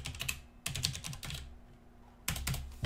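Typing on a computer keyboard while writing Rust code: quick, close, clicky keystrokes in three short bursts separated by brief pauses, fairly quiet and with no voices.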